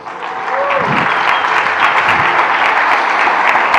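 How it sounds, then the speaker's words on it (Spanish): A church congregation applauding during a Spanish-language service, steady full clapping that builds in the first half-second and holds loud, with faint voices and cheers mixed underneath. "Un aplauso al Señor."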